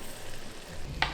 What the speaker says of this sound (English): We let that butter sizzle the tomatoes